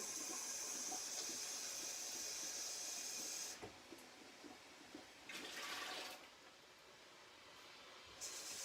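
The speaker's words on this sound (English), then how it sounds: "I've let that boil too long." Water boiling in a pressure canner gives a loud steady hiss that cuts off abruptly, followed by quieter bubbling and two short renewed bursts of hissing steam.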